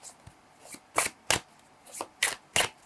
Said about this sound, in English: This deck is so like slippery, so trying my best to shuffle these.